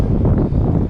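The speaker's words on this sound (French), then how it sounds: "Il y a trop de vent à 28 degrés." Wind gusts across a beach in Mexico, a brief steady roar of rumbling microphone buffeting with no voices.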